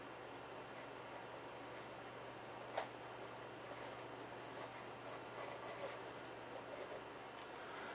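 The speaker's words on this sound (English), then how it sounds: "That's where I start using my eraser right to get the guidelines out." A pencil eraser rubs out guidelines on a paper drawing, a faint, steady scratchy rubbing that holds throughout against a quiet background hum, with one brief louder scrape near the middle.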